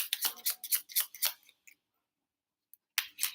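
Quick crisp flicks and riffling of Lenormand cards being shuffled, a burst of rapid snaps, a short pause, then more shuffling.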